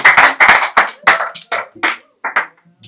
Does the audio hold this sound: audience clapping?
yes